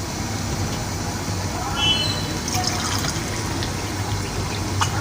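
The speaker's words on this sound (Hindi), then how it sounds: "देखिए माशाल्लाह आपने 2 अदद कप डालने पानी के इसके अंदर।" Two cups of water poured into a cooking pot for a homemade cold and flu remedy, a soft steady splashing trickle under broad background noise, with no speech.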